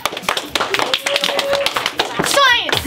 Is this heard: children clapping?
yes